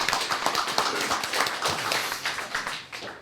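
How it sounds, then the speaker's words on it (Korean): An audience bursts into loud, dense applause, many hands clapping continuously and close at a steady level for the whole stretch. "큰 박수 한번 보내주시기 바랍니다"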